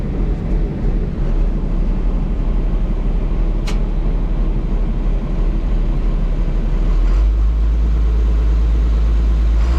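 A raking tractor used for hay baling runs with a steady, loud low-pitched engine drone that holds throughout, deepening slightly in the last few seconds.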